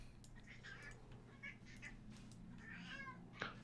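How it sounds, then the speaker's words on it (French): A cat meowing just after waking up, giving several short, faint mews and chirps at a distance over a steady low background hum. "C'est le réveil du chat."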